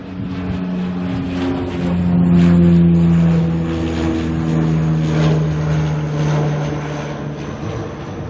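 Air New Zealand flight NZ5079 departs Auckland for Nelson, a propeller airliner whose droning engine tones swell and hold, loud and fairly close, with no voices over the sound.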